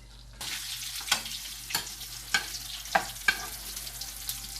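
Fish fries in a pan while herb oil is spooned over it, a steady sizzle broken by sharp crackles and spits every half second or so, close and with no voices.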